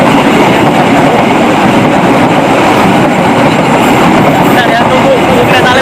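A train passing close by, with a loud continuous rumble and rattle of the wagons throughout and faint squealing near the end, heard alone without talk.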